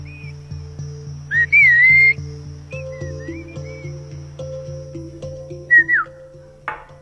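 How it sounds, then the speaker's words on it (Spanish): Whistled Mazatec language, a few short sliding whistles and one longer steady tone, heard over a steady electronic hum and regular low clicking, with a faint scraping sound at the end. "El mazateco chiflado nace a través de la necesidad de comunicarnos"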